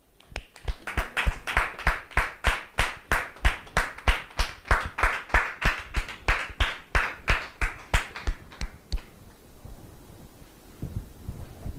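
An audience welcomes a guest with rhythmic, unison clapping, about thirty loud, evenly spaced claps over roughly nine seconds that then stop abruptly, leaving quiet room noise.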